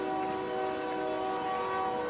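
A train passes behind a Round Rock ballpark during a Texas high school baseball semifinal, giving a steady, sustained horn-like tone with several held pitches over a constant rumble, moderately distant, with no talk.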